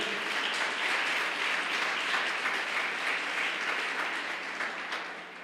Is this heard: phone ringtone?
no